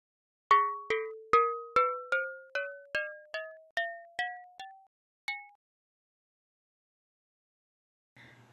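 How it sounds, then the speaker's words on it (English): Synthesized metallic xylophone on a multi-touch virtual instrument, eleven bright ringing strikes in an ascending run with short decays, then a pause and a single higher note. "Now, we show a metallic xylophone."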